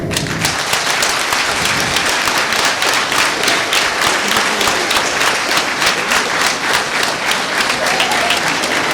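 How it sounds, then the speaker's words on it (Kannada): An audience gives loud, sustained applause for class 10 school students after their play, a dense, even roll of many hands clapping, with no voices over it. "ಒನ್ ಮೋರ್ ಟೈಮ್ ಮಕ್ಕಳಿಗೋಸ್ಕರ ಚಪ್ಪಾಳೆ"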